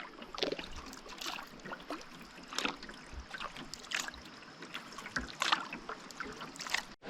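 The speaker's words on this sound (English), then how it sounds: "And here are the rapids right up ahead." River rapids rush somewhere ahead of a canoe in Algonquin, a steady broadband wash of moving water with irregular splashes and paddle knocks, moderately close, with no talking.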